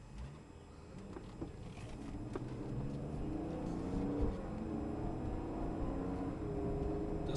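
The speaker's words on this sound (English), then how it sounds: "This inline six cylinder is very powerful. And as you can see, the transmission shifts correctly." A 2002 BMW 325Xi with all-wheel drive and an inline six-cylinder engine hums steadily and builds gradually as it pulls through gear changes, a continuous close engine rumble with no talking.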